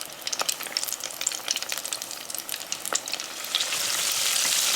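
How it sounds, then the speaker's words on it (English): Fish nuggets deep-frying in hot fryer oil, a steady close sizzle with scattered bubbling pops that swells into a denser, louder hiss toward the end, with no voices. "Let them fry now for about 5 to 7 minutes."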